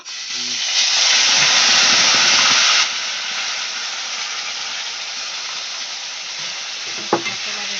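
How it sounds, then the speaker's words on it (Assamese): Cumin and spices hit a hot pan with a loud hissing sizzle that surges for the first few seconds, then settles into a steady fry, with one brief utensil knock near the end. "আমাৰ জিৰাকেইটা ভাজি হৈ গ'ল গোন্ধ ওলাইছে আৰু ইয়াত এতিয়া মই মছলাখিনি ব্যৱহাৰ কৰিম"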